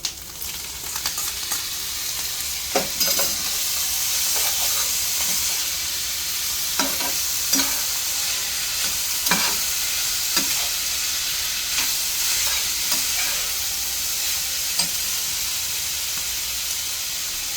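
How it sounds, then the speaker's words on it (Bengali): Noodles tipped into a hot pan for a super spicy Korean-style dish, a steady loud sizzle and hiss with repeated scraping stirs of the utensil against the pan, no voices. "এখন নুডলসগুলো ঢেলে দিব"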